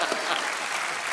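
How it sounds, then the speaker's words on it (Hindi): A television comedy show studio audience claps in a steady, dense burst of applause, fairly faint and brief. "पप्पू और आलू के लिए तालियां"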